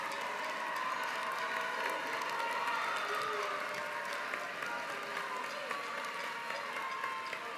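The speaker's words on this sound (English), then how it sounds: "give a hand clap, a little love to every person who has supported you on this journey" A graduation audience applauds at a high school STEM ceremony, a dense, even wash of clapping from a large crowd that holds steady throughout with scattered cheers.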